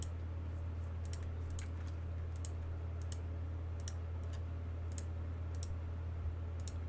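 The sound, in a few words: mouse clicking on gear pieces in Raid Shadow Legends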